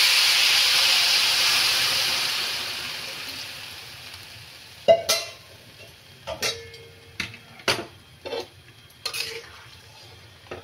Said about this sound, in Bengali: এখন আমি নিরামিষ পোলাওর মধ্যে গরম জল দেব।